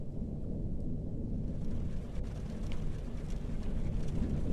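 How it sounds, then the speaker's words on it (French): Steady rain and low rolling thunder from The Joy of Creation horror video game form a constant, muffled rumble with a soft hiss of rainfall, heard alone at a low level. "Oh non, en plus il pleut chez WAM"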